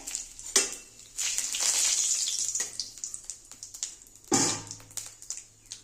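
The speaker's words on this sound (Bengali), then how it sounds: "তেলটা গরম হয়ে গেছে। এবার আমি সাদা জিরে, তেজপাতা," White cumin seeds and bay leaves hit hot oil with a sharp burst of sizzling that settles into a steady crackling fry, with another loud splash of sizzle near the end; no one speaks.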